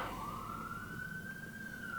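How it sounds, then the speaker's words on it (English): A single faint siren wails steadily in the distance, its tone rising slowly and then holding over low traffic rumble. "Can you hear the sirens?"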